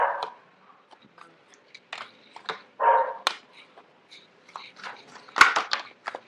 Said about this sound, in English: forgive the dog barking in the background